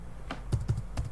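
Keys clack on a computer keyboard, four or five quick, close taps in an irregular rhythm over a quiet room hum.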